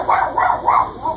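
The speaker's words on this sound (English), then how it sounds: "You can hear our dog going crook in the background there." A dog barks in the background, four evenly spaced barks of moderate loudness over a steady hum, with no one talking.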